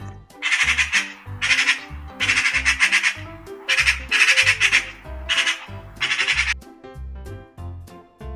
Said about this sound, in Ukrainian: А ось і сорока.